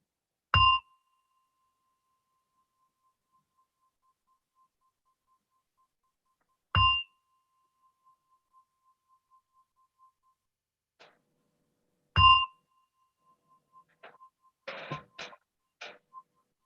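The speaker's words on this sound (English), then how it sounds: "as you hear the gong, slowly open your eyes" A meditation gong closes a mindfulness session with three clear, sharp metallic strikes spaced about six seconds apart, each ringing briefly over near silence, followed by a few faint scattered clicks and taps.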